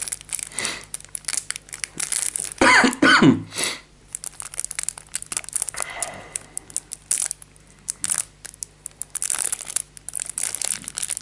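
A crinkly plastic package of trading cards is pried open by hand, with close crackling and crumpling in bursts, one loud cluster of tearing, then quieter intermittent rustles and soft handling noises.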